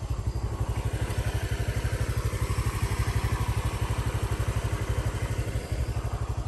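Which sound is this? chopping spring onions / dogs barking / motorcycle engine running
motorcycle engine running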